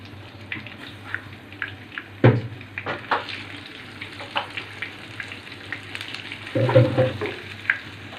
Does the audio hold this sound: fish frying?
yes